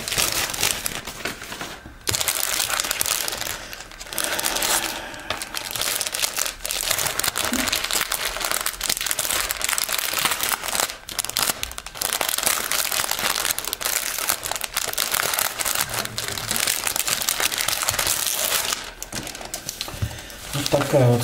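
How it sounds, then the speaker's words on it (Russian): A travel bag is handled inside a thin plastic package, with continuous loud close crinkling and rustling and brief pauses. A voice talks at times. "Значит, вот в обычном пакете она пришла."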